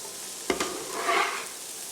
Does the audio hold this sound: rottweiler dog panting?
no